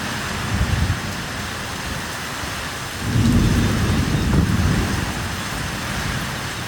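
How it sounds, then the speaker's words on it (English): Steady rain pours down with broad hiss, swelling louder midway, and a low rumble of thunder rolls underneath throughout. "Here's the rain."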